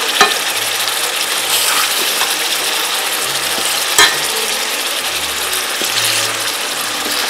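Fish frying in a pan, a loud continuous sizzle and crackle throughout, with a brief clunk of a utensil midway and a faint low hum underneath, no talking.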